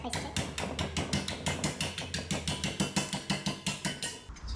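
Hammering on metal while shaping a patch to repair a rusty car door hinge: a fast, steady series of close, ringing blows, roughly five per second, with a voice briefly heard underneath.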